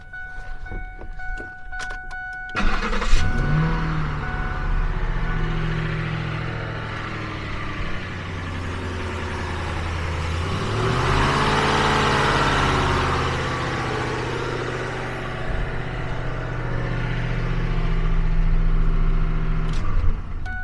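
After a brief cranking, a junkyard car engine with a suspected noise fault fires up and settles into a steady idle nearby, rising slightly in revs now and then.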